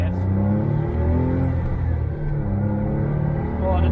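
A Smart Brabus Roadster engine drones steadily as the car accelerates, with a low, constant rumble and a slight dip in pitch midway, heard from inside the cabin.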